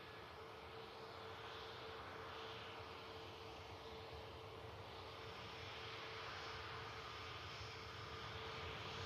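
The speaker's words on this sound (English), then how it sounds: "Lufthansa with one of their subsidiaries called Lufthansa City. Coming in from Munich." A Lufthansa CityLine airliner arriving from Munich makes a faint, steady distant roar that swells slightly as it approaches, with no voices.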